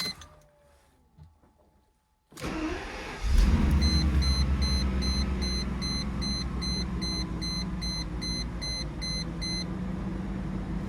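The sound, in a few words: car engine cold start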